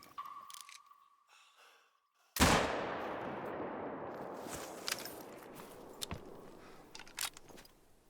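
A rifle gunshot in the hunting game Call of the Wild, a single loud sharp crack that rolls off into a long fading echo, with faint clicks before and after.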